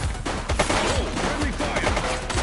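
Rapid gunshots crack in a burst during a police shootout in the video game The Precinct, loud and close, with a voice shouting over the firing.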